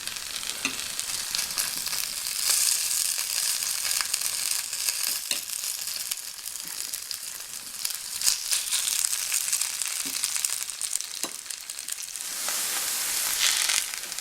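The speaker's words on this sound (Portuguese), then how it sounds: "Quando o óleo estiver quente, é só colocar uns montinhos da batata, montinhos de batata ralada, formando as panquecas." Little mounds of grated potato fry as pancakes in hot oil, giving a steady, close hiss and sizzle with occasional crackles and pops throughout.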